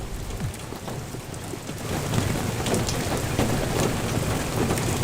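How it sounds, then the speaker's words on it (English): Hail and heavy rain pour down in a video game storm, a dense, steady roar of drumming drops with scattered sharper impacts that grows a little louder partway through, with no voices. "it's hailing and pouring at the same fucking time"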